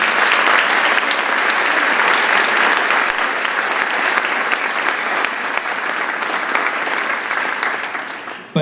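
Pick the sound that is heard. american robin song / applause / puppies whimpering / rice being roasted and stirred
applause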